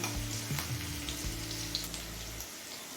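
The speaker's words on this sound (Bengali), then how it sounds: "রসুন কাঁচা লঙ্কাটা লো ফ্লেমে মিনিট দুয়েক ভেজে নিয়েছি" Chopped garlic and green chillies frying in oil over a low flame: a steady, close crackling sizzle with a faint low hum, continuous and heard alone.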